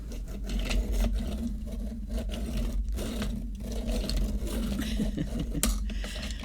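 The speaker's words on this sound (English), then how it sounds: "I'm gonna have to sharpen that" Continuous grinding scrape of a sharpener sharpening a peach colored pencil, steady and close, running throughout with slight rhythmic variation and no voices.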